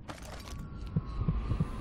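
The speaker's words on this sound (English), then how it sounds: "I did not know that you could actually hear the heartbeat, even if you didn't have the heart out." A low, muffled heartbeat throbs in Dishonored, four soft thumps in a slow, uneven rhythm beneath a faint hum and game ambience, with no one talking.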